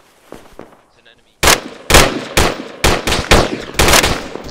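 Gunfire in the video game ArmA 3: after a quieter opening, about seven loud, close, evenly spaced shots or short bursts ring out in a rapid rhythm.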